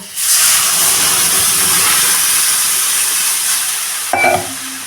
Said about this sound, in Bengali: আমি আলুটাকে দিয়ে দেবো হলুদ দিয়ে দেবো এবং যত পরিমাণে নুন লাগবে সেই নুনটা আমি দিয়ে দিলাম এবার জল দিয়ে দেবো